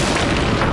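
In Call of Duty Warzone, an airstrike hits with a loud, sustained, booming roar that fills the whole moment without a break.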